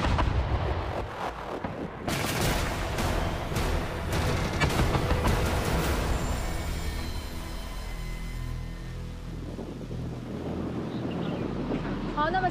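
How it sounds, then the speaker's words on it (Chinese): Type 08 eight-wheeled infantry fighting vehicle firing its 30 mm autocannon at a moving target: a run of loud, sharp bursts over heavy wind noise and engine rumble, fading to a steadier drone. "立即开火，我们可以看到移动靶的附近火还有烟尘就升起来了。"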